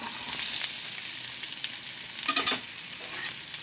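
Onion pieces fry in hot oil for a curry of brinjal and mango, a steady bright sizzle with stirring scrapes swelling briefly near the middle, close and continuous without any talk.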